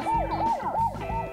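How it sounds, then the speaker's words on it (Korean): A police car siren wails in a steady rising-and-falling pattern, loud and close, several sweeps repeating without a break and no voices. "뒤에서 자꾸 사이렌 소리가 들리는 거예요."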